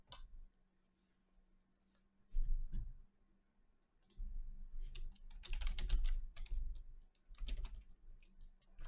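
Fast typing on a computer keyboard, dense bursts of clicking keystrokes close to the microphone, separated by short quiet pauses, with a faint steady hum underneath and no talking.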